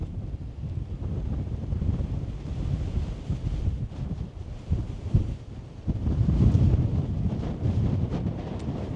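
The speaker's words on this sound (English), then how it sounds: "But it is getting windy and cold." Strong wind buffets the microphone high on the Old Man of Coniston, a steady low roar with gusts that swell and surge louder toward the end, with no talking over it.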